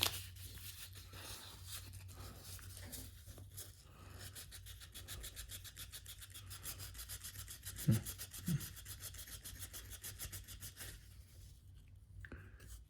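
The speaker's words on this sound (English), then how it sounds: "500 grit or 800 grit sandpaper. That's what I'm using." Hand sanding with 500 or 800 grit sandpaper during service of a Brother PE800 embroidery machine, a steady close rubbing rasp in fast repeated strokes, with a couple of brief louder knocks near the end.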